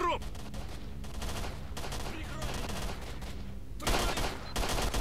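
Gunfire in the game S.T.A.L.K.E.R.: Shadow of Chernobyl, a fight at a junkyard: dense, continuous bursts of shots over game music and ambience, growing louder near the end.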